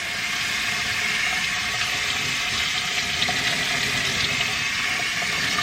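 Running water rinses a Goldendoodle puppy's head during a bath, a steady and fairly loud continuous rush and splash that does not change for the whole stretch.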